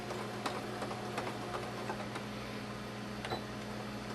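A sewing machine stitching forward through fabric for a ruffled sock, with a steady mechanical whir and quick, even ticking of the needle close by, and no talking.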